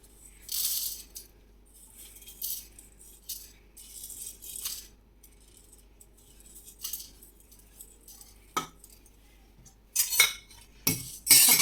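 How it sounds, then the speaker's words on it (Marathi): Whole spices stirred and dry-roasted in a hot kadhai, intermittent metallic scrapes and rattling clinks of a spoon against the pan, sharper knocks toward the end, no voices. "तर यामध्ये आपण काय करूया हे जे मसाले होते ना ते छान असे थोडेसे परतून घेऊया"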